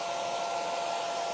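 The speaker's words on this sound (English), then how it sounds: "Now we'll hit that with our dryer so that we've got a nice dry surface to do our second coat on." A hair dryer blows steadily at close range, drying paint on a stenciled winter floral ice skate craft on a 16-inch round, a constant even whoosh with no voices.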